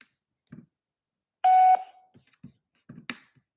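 Telephone call tones reach a voicemail: scattered short clicks and blips, then one loud steady electronic beep of about a third of a second, followed by more brief clicks in near silence.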